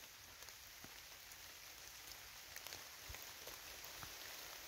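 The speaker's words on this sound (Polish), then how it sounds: "Deszcz pada." Rain falls steadily through a forest, a close, even hiss with scattered louder drops hitting leaves and the ground, and no voices.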